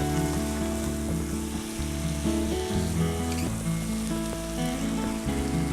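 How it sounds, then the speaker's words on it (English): Sweet potatoes and mixed vegetables seasoned with herbes de Provence sizzle steadily in a hot pan while being stirred, a close, continuous frying crackle with soft scraping and no talking. "I'm going to give this a nice quick stir just to get the vegetables kind of incorporated throughout."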